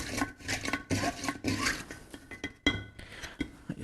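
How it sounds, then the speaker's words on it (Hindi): Utensil clinks and scraping against a pot while biryani marinade ingredients with mint are stirred together, a series of close, irregular metallic knocks and rubs, no talk. "अब इस सबको कर देंगे मिक्स"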